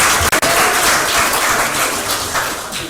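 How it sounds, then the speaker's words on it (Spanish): Audience applauding at the close of a feminist dialogue panel, a dense steady wash of clapping from a room of listeners that carries on throughout and eases slightly toward the end. "Un fuerte aplauso, por favor"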